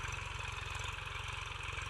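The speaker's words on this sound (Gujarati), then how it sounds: "તો ટ્રેક્ટર ચાલુ જ છે વાવવાનું" Tractor engine running in a field during chickpea sowing, a steady low, throbbing chug that pulses evenly and continuously at moderate distance, with no talking.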